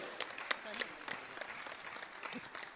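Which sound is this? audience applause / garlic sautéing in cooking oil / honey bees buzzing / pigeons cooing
audience applause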